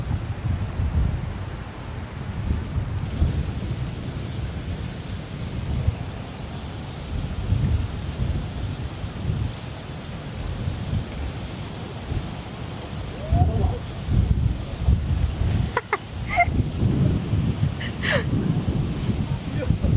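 Wind blowing at the seaside in Da Nang, a steady low rumbling buffet across the microphone throughout, with brief faint voices and small rustles toward the end.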